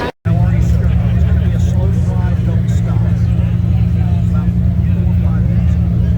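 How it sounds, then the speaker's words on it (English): A long parade line of red Ferraris rolls past with a steady, loud low engine drone and rumble throughout, people talking over it close by. "there's a big line of red Ferraris"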